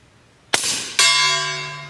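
A .38 Special round from a suppressed lever-action rifle strikes a steel gong: a muffled shot, then a sharp metallic clang that rings on as a loud bell-like tone, slowly fading.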